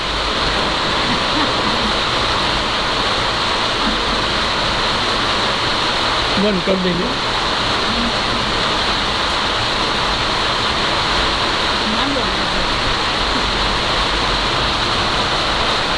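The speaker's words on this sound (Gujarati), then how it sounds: "જોવાવાળાને વરસાદ જ સંભળાતો હોય" Heavy rain pours steadily onto metal roof sheets as a dense, unbroken roar, loud and close, while people talk briefly underneath it.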